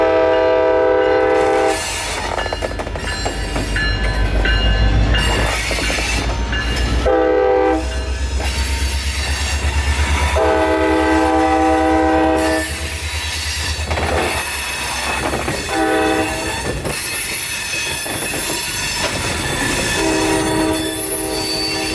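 Steam locomotive 750 passes loudly and close on the railroad, its horn blowing in long repeated blasts over rumbling, clanking wheels and a steady roar.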